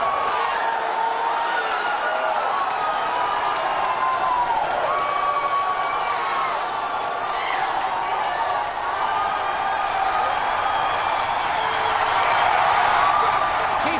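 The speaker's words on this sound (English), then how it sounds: "if you can hear me over the cheering." Large crowd cheering, whooping and applauding at the first Falcon Heavy rocket launch, a steady roar of many voices held loud throughout with scattered shouts rising above it.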